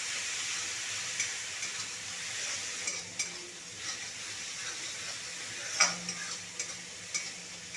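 Spiced masala paste with cumin, coriander, turmeric and Kashmiri chilli powders frying in oil in a pan for a jackfruit curry, a steady soft sizzle under intermittent scraping stirs and clinks of a spatula, close and continuous with no talking.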